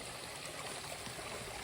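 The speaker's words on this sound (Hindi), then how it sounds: "ये हमारे रास्ते में पड़ने वाली अब तक की तीसरी धारा।" A forest stream on the mountain trek to Rudranath rushes steadily in a broad, even wash of flowing water, constant and unbroken with no voices over it.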